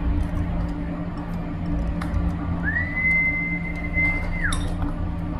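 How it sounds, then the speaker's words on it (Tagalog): A person aboard a ship whistles to call racing pigeons for feeding: one long, steady, fairly clear note that slides downward at the end, over a constant low engine-like hum. "Every time bago po ako magpakain sa kanila ay sumisipol pa ako."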